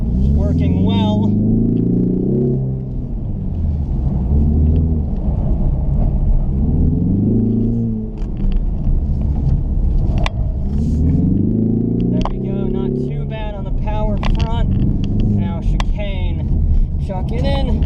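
A 2021 Ford Mustang EcoBoost with a turbocharged engine drives hard, the engine note sweeping up repeatedly through gears in loud, close runs, with someone speaking intermittently over the engine.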